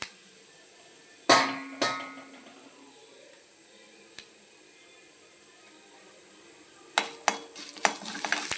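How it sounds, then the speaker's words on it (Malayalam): Urad dal drops into hot oil in a pan, setting off a soft steady sizzle, with a few sharp metallic clinks and scrapes of a spoon against the pan at intervals. "ഇതിലേക്ക് നമുക്ക് ലേശം ഉഴുന്ന് പരിപ്പിട്ട് കൊടുക്കാം അതൊന്ന് ചോക്ക മൂക്കണം"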